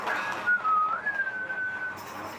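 A lone person whistles a wavering, sliding tune at a para alpine skiing downhill race in Milano Cortina, clear and fairly close over quiet background.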